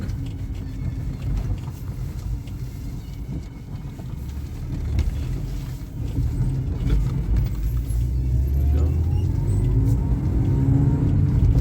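Inside a BMW E36 328i Sport pulling away across a gravel car park: a steady low engine rumble with road and tyre noise that grows louder as the car gains speed and the revs rise, with no voices.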